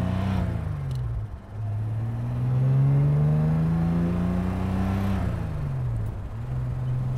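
A 1964 Jaguar XKE Series I engine pulls through the gears, with rising revs that drop at each shift before climbing again, heard steadily and fairly close from the car.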